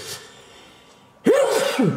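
A single sharp sneeze bursts out after a quiet moment, loud and close, with a quick intake and explosive release.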